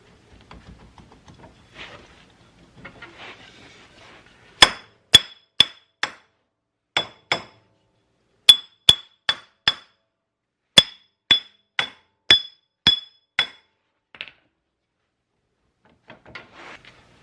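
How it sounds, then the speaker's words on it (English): Sharp metallic hammer blows ring out one after another in short bursts with brief pauses, close and clear, with faint shuffling between them, as an axle is driven through the rear wheel bearings of a Suzuki King Quad 300 ATV. "So after a bunch of hammering and stuff"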